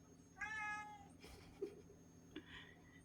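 A cat gives a clear, drawn-out meow, followed by a few softer chirps and a short second meow, heard up close in a quiet room.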